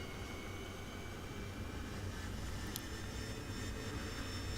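An AV-8B Harrier jet in the DCS combat flight simulator roars at full throttle, a loud, steady, broadband engine rush that holds constant throughout with no voices.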